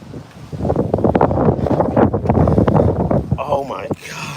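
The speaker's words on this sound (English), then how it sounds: "sorry about the wind. I'm gonna try to get out of this wind." Heavy wind buffets the microphone in loud, rumbling gusts while a person talks over it outdoors while fishing, the roar easing near the end.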